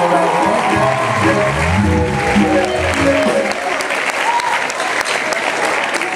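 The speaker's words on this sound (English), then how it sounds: "Please give him a round of applause" Loud, dense applause from a concert crowd at a live show, with music still sounding underneath at first, then continuing as a steady wash of clapping.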